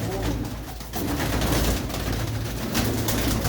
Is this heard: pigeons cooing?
yes